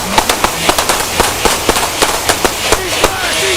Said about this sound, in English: Shots fired. We got shots fired.